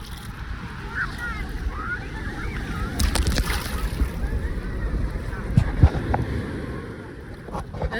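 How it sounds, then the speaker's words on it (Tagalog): Big ocean surf rolls in along the coast at Baler, Aurora, a loud churning wash of breaking waves with strong wind buffeting the microphone and a few sharper splashes midway. "Ayun, laki ng wave."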